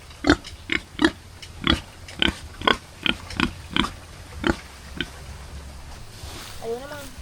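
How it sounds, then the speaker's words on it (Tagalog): Pig grunting at a house in a rural setting: a steady series of about a dozen loud, close, rhythmic grunts, followed by quieter squeals near the end over faint background noise. "Laki na ng baboy nila."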